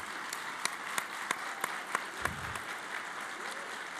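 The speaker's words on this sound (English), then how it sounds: "please join me in giving a round of applause to Staff Council again" Steady applause from a crowd at a service awards ceremony, dense clapping filling the whole stretch with a few sharper individual claps standing out.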